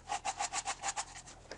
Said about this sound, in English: I use the same 120 grit sandpaper on this gator sanding block that has a cushy pad on the bottom